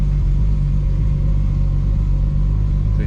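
A Toyota Supra engine idles steadily while the car creeps slowly around a home driveway, producing a close, even low rumble with no talk.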